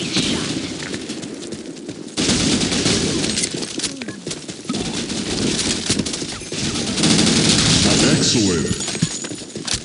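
Rapid gunfire in the online shooter Blackshot, with bursts of automatic shots running almost continuously and loud, mixed with game effects and voices talking over it.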